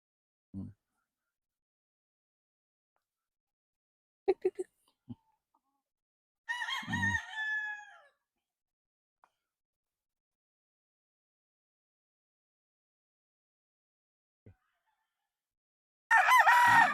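Kelso gamecock roosters, a white Kelso cross and a straight white Kelso about 5.5 months old, crow in a quiet setting, one full crow midway and another starting at the end, with a few scattered clucks between long silences.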